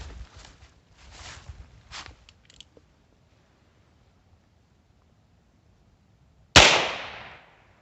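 A single sharp, loud shot from a 2-inch Heritage Rough Rider .22 revolver fired into boards cracks out near the end and decays quickly, after several seconds of quiet shuffling and handling noise.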